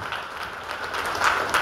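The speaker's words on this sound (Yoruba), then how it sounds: "S'il vous plaît, est-ce que vous pouvez l'applaudir?" A church audience claps for their pastor, steady, moderately distant applause filling the whole moment with no voices over it.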